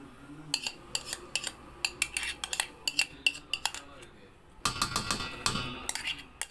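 A spoon clinks and scrapes against a bowl in sharp, irregular taps while butter and flour are mixed for eggless coconut biscuits, with a denser burst of clatter near the end.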